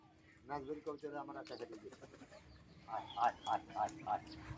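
Pigeons cooing nearby as they are brought down at a loft, a series of soft rhythmic coos toward the end, preceded by someone talking.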